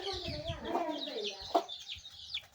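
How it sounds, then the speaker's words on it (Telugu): Chickens, including a laying hen, cluck close by in a quiet yard, a run of short, pitched clucks and squawks with one sharper call partway through. "పెద్ద ఇదే గుడ్లు పెట్టే కోడే ఇది"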